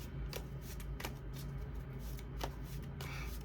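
Tarot cards being shuffled and handled by hand, soft papery riffles and slaps in a quiet room, several distinct flicks over a steady low background hum.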